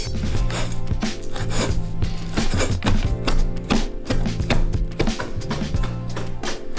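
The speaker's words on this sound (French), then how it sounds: "là je vais vraiment les couper grossièrement en morceaux pour que ça fasse des petits morceaux dans la sauce" Sun-dried tomatoes being coarsely chopped with a sharp knife on a board: a close, busy run of irregular knife strikes and dull taps lasting several seconds, without speech.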